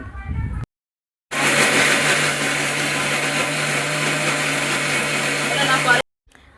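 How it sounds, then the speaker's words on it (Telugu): A mixer grinder blending ginger-garlic paste runs loudly for several seconds, a steady high whir with a low hum, starting abruptly after a short pause and cutting off just as suddenly. "ఆ మిక్సీ జార్లో వేసుకొని వాటిని కూడా పేస్ట్ చేసుకోవాలి"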